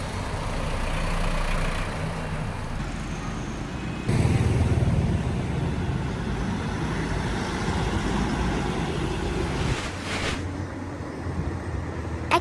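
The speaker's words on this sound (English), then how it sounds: "Refrigerated truck." A refrigerated truck's engine idles and rumbles at moderate volume with a steady, low drone, growing louder for a stretch before a sharp transient near the end.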